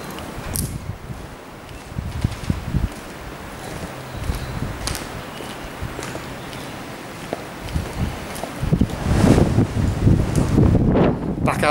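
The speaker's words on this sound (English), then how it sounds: "Back out into the wind again, so you'll have to bear with me." Strong wind buffeting a microphone outdoors around the grounds of an abandoned hospital in North Wales, with gusty low rumbles and rustling that build louder toward the end, along with faint footsteps.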